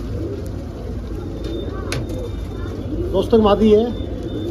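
Pet pigeons of Saharanpuri, Rampuri and Punjabi breeds give low, soft cooing near the microphone, partly masked by someone talking close by.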